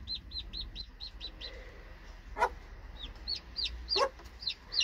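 Domestic hen, a first-time mother with chicks, giving repeated short high calls in a steady run, with a couple of louder squawks nearby over a low background hum.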